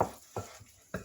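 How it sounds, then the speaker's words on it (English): Spatula stirring and scraping stuffed green pepper filling in a pan, three soft broad scrapes spaced across about a second, close and fairly quiet with no talk. "I have my spatula here. I'm going to mix this all up."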